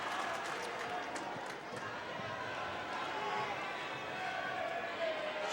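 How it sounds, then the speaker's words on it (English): A crowd of Viking fans applauds at a boys' district basketball finals game, a broad, sustained wash of clapping and cheering in a gym, with the announcer's voice running over it. "Kyle, Tajay, all of them get a nice big round of applause from the Viking fans"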